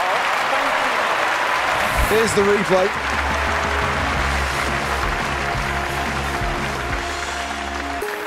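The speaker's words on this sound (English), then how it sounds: "Well, the crowd are up, they're on their feet." Video game stadium crowd at a London 2012 Olympic event, a steady roar of cheering and applause running under a commentator's voice throughout.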